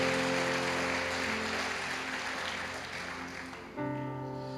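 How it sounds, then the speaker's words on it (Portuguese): A church congregation claps together in a dense, steady wash of applause, with sustained organ or keyboard chords ringing underneath and shifting near the end. "Aplauda sim a Jesus"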